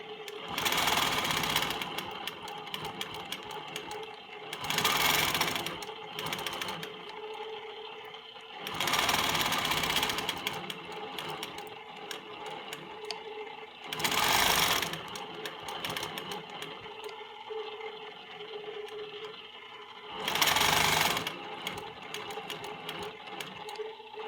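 A longarm quilting machine stitches ruler work across yellow fabric. Its rapid mechanical buzz comes in several loud bursts of a few seconds each, separated by quieter idling gaps, with no voices.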